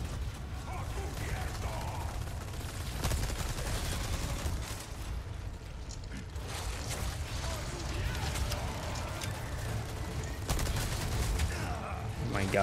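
Rapid machine gun fire rattles during a Resident Evil 4 Remake firefight, a dense mechanical clatter running steadily throughout with occasional sharper bursts, mixed with game noise and some voices.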